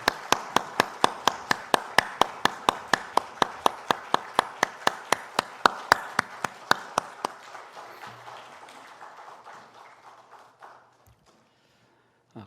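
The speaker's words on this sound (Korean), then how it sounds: "하나님께 영광의 박수 올려드리겠습니다" A church congregation at a Sunday worship service claps in steady unison, loud and rhythmic for about seven seconds before thinning into scattered, fading applause.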